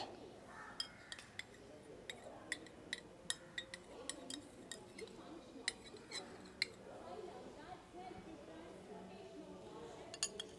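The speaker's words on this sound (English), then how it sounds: "4 or 5 crystals of potassium permanganate in second beaker. And stir well." A rod stirs potassium permanganate crystals in water in a glass beaker, giving a run of quick, light clinks of glass on glass, faint and close, with a voice speaking over them.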